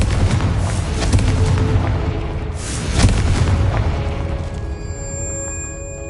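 A Confringo fire spell in Hogwarts Legacy bursts as a deep booming explosion that swells and rolls, with a second heavier blast midway, then fades into a ringing magical shimmer.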